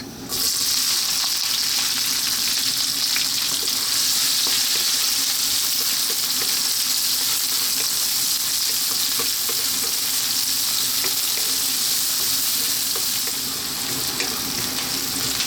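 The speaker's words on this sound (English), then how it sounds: "we're going to drop our onions in" Onions frying in hot oil over high heat for a red kidney bean curry, a steady, loud, close sizzle with a dense hiss that holds evenly throughout, no voices.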